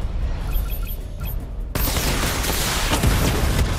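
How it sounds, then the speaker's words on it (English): Batmobile missile barrage in Batman Arkham Knight, fired during a fight with Scarecrow: a sudden loud burst of rapid, overlapping explosive impacts that keeps crackling and booming after quiet electronic beeps. "Missile barrage level 2 ready."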